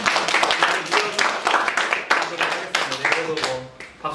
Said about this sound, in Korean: 박수 소리가 힘이 되네요